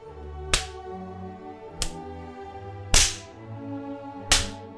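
Four sharp whip lashes crack one at a time at irregular intervals during a flogging in 1836 London, each one loud, close and snapping, over a low background hum.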